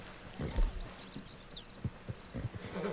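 Horse hooves clip-clopping in the Red Dead Online video game, a few uneven, moderately close thuds spread across a short stretch with low background ambience.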